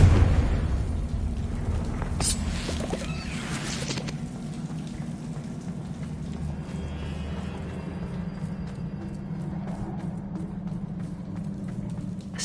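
A Confringo fire spell explodes in Hogwarts Legacy: a loud burst at the start, then a sustained rumbling, crackling roar that slowly settles into a steady low background with scattered small pops.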